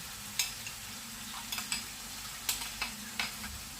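Soft scraping and light clinks of a utensil working through a thick, milky mixture in a bowl for dried Carpathian mushroom soup, a few irregular strokes over a quiet background hum.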